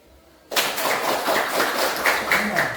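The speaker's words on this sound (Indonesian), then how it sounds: "Simon bilang tepuk tangan." After a quiet moment, children suddenly burst into rapid hand clapping during a Simon says game in a classroom, the loud, uneven claps continuing to the end.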